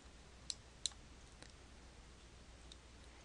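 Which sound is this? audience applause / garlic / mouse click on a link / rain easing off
mouse click on a link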